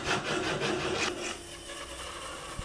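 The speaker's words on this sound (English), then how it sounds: "squaring off the ends now with my tenon saw" A tenon saw squares off the ends of wooden pieces for a sliding-lid box, giving a close, steady rasping cut through wood that eases off partway through, then a couple of sharp knocks near the end.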